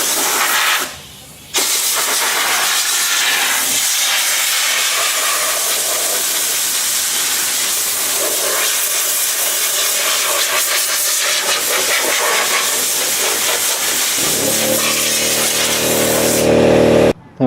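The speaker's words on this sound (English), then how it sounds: "I'm going to start just blowing it off." Compressed air blows steadily off a fiberglass seat pan being prepared for body filler, a loud, close, continuous hiss lasting several seconds with a brief pause early on.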